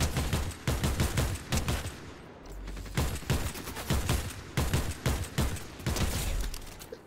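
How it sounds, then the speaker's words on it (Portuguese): Gunfire in a Fortnite match: repeated bursts of shots in clusters across the span, loud and fairly close, with short pauses between volleys and no talk. "Ih, estão atirando aqui."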